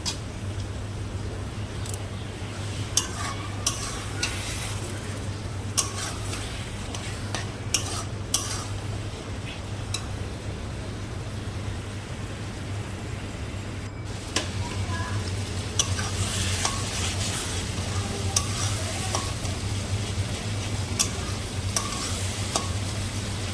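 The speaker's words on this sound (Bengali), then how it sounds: "ভালো করে নাড়িয়ে চাড়িয়ে কষিয়ে নিলাম" Onion and spice masala stir-fried in a pan before dried fish goes in, giving a continuous sizzle with repeated utensil scrapes and clatters, close by and fairly quiet, with a low steady hum underneath.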